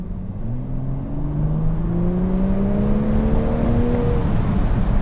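A 2022 Toyota Supra engine revs upward steadily, pitch climbing smoothly through the gears, loud and close with a constant roar underneath.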